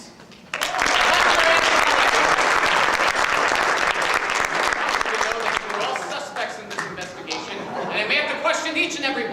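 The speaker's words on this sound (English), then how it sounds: "Clap your hands." Fundraiser audience clapping at a murder-mystery event, a sudden loud burst of many hands that swells at once, holds dense for several seconds, then thins and fades with scattered chatter and laughter.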